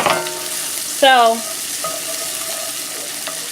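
Ingredients for lobster mac 'n cheese sizzle steadily in a hot pan, a close, even frying hiss under a brief spoken word and a faint clink.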